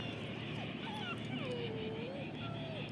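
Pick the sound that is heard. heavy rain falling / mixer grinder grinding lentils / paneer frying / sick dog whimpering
sick dog whimpering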